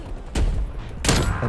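Two heavy Barrett sniper rifle shots ring out in a first-person shooter video game, each a loud, sharp blast with a short decaying tail, spaced about seven tenths of a second apart.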